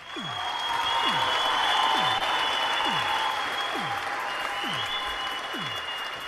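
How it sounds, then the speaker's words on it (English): A round of applause during a virtual workshop show, a continuous, even clapping texture. A short, falling whistle-like sweep repeats at a regular pace beneath it. "Round of applause real quick."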